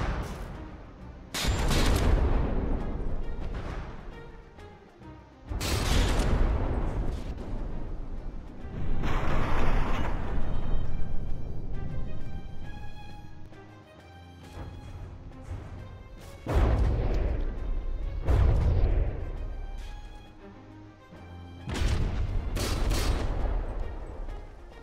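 Heavy artillery shelling in the naval battle game From the Depths, with loud booming volleys arriving in repeated bursts every few seconds, each blast rumbling and decaying before the next salvo.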